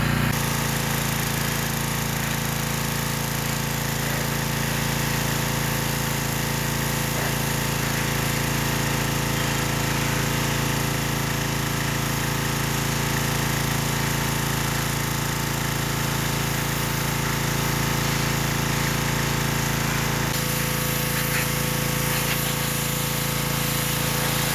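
Lawn mower engine running steadily at close range, a loud, continuous mechanical drone with a buzzing, rattling texture that holds unchanged for the whole stretch with no talking.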